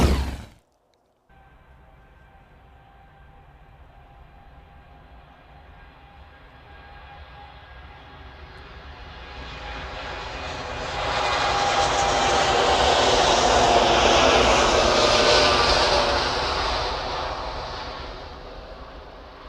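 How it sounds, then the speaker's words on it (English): Saudi Boeing 787 Dreamliner departing Manchester Airport: a jet roar builds from a low distant whine to a loud, broad rush that peaks and then slowly fades, after a brief sharp noise at the start. "Always love watching the Dreamliners depart."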